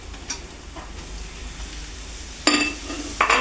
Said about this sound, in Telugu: ఇప్పుడు మనం కడిగి పెట్టుకున్న చికెన్ పీసులు ఇందులో వేసుకోవాలి